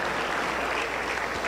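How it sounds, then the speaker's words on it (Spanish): A congregation at a Pentecostal church service applauds in a dense, continuous wash of clapping that holds steady for the whole moment. "Aplausos para el Señor Jesús"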